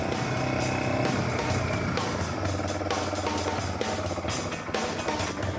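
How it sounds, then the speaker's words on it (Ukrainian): Engine of a Chinese dirt-bike style motorcycle, a steady buzzing drone with some uneven rumble and brief bursts, heard up close for several seconds without speech. "мотоцикл щось схожий на кросове, але таке щось собі китайське щось таке"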